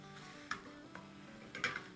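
Cumin, tomato and garam masala frying in a pan for a chicken sandwich filling, a soft steady sizzle with a few sharp clicks of stirring, close and quiet with no talk.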